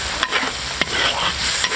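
Vegetables and bean paste being stir-fried in a wok, a steady hiss of frying with soft scraping stir strokes recurring a few times over the short stretch, fairly close and with no talk.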